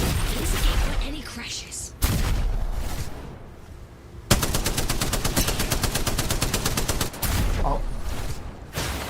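Bursts of automatic gunfire in a tactical shooter game, several rapid sustained volleys separated by short pauses, loud and close, with a voice talking underneath at times.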